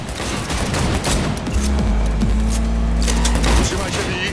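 Cyberpunk 2077 combat during a car chase brings dense bursts of automatic gunfire, loud and near, alongside a low engine drone and vehicle noise, with voices shouting among the shots.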